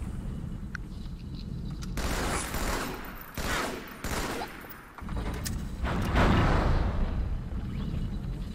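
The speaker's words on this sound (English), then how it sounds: "they kill you so fast with those stupid plasma rifles" Rapid plasma rifle fire from the Halo 2 video game on Legendary, dense bursts of energy-weapon shots in overlapping volleys, loud and close with short pauses between flurries.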